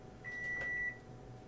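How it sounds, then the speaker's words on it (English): A kitchen timer sounds one steady, high, electronic beep lasting over half a second before it is switched off, fairly faint against a quiet kitchen background with no talk. "I'm gonna turn off this timer"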